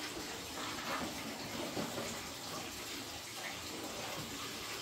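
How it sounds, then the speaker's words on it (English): Water being bailed out of a home aquarium by bucket during a water change, a steady splashing, sloshing wash that runs continuously and fairly close, with no voices over it. "Let's try to hurry up and get some of this water out of here."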